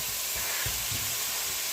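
Apples hitting a hot pan set off a steady, moderately loud sizzle and hiss, with a few soft low bumps of pieces landing, and no voices.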